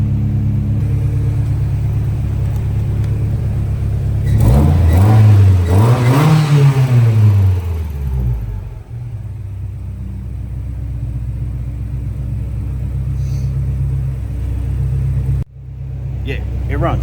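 A turbocharged Miata engine runs at a steady idle, then revs up sharply and winds back down before settling to idle again; a loud, close, rumbling mid-pitched engine with a brief voice near the end.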